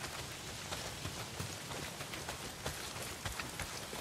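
Steady heavy rain pours down in the Days Gone video game, a dense, continuous hiss with scattered louder drops pattering close by, no voices.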